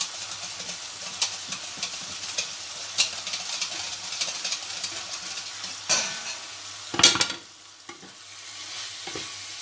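Batter being stirred with sugar for pfannkuchen, a spoon scraping and knocking steadily around a bowl, close and moderately loud, with a sharper clatter near the end.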